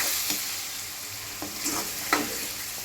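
A tomato mixture is stirred in an oily frying pan for an okra curry, with a soft continuous sizzle and a few scraping strokes of the spoon against the pan, close and fairly quiet, with no talking.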